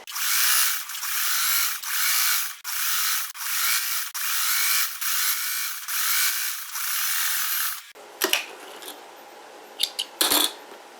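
A sewing machine stitching a double-folded hem on a skirt lining: loud bursts of buzzing running in about eight even runs with short pauses, followed by quieter clicks and fabric handling.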